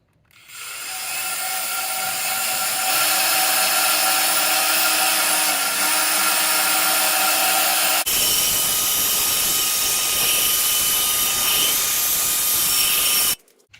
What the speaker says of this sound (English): An electric drill from Ryobi with a wire brush cup that we used to restore the grate last time.